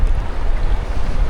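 Strong wind buffets at a beach in Playa del Carmen, a loud, close, low rumbling gust with surf hiss blended underneath, no voices.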